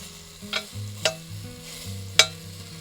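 Beef searing in a hot pan during stew preparation, a soft steady sizzle with a few sharp stirring clinks of a utensil against the pan, quiet and close.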